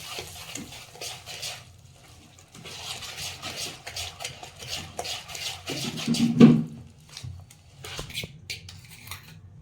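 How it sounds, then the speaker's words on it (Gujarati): A spoon scrapes and clinks against a bowl as thick bottle gourd handvo batter is stirred in a steady, repeated rhythm, close and moderately loud. "હવે બધું મિક્સ કરી દઈએ."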